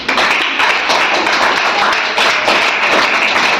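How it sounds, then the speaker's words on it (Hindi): Classroom of students clapping hands together in a steady, dense burst of applause, close and loud throughout with no talking. "चलो ताली बजाओ सब"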